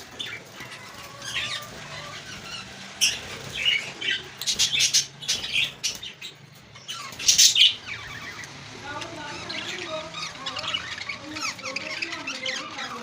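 Australian parrots in a breeding setup chirp and squeak in scattered bursts, some with a brief flutter of wings, while someone talks at moderate volume throughout.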